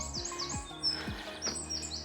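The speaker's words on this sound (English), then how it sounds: "The birds are singing" Birds chirp and tweet in short, bright calls above a low outdoor rumble, fairly faint and scattered across the moment.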